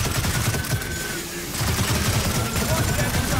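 Dense bursts of rapid gunfire from a weapon in Gears of War 4 rattle steadily for several seconds, loud and close, with a brief dip midway before the shooting resumes.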